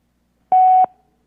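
A single short telephone tone, clean and loud, lasts about a third of a second and then cuts off into silence while a call goes to voicemail during a committee meeting.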